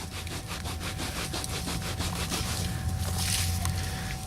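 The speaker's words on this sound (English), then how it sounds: "I'll just give it a rub on the pants leg" An old 1944 sixpence coin is rubbed briskly on a trouser leg outdoors, giving a steady rhythmic scraping that repeats close to the microphone.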